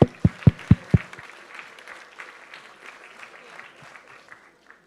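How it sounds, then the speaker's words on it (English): A few loud, close claps ring out at a hackathon closing ceremony, then fade into soft, scattered crowd clapping and murmuring voices in a large room. "Let's give him a round of applause."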